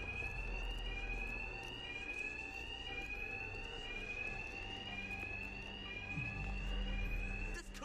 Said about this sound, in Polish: these thugs can't hear a thing over the alarms